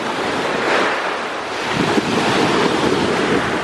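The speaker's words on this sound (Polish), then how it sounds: "Tam jest morze." Sea waves wash onto the shore at Omiš on the Croatian coast in the evening, a steady rolling surf wash with gusts of wind buffeting the microphone, no voices.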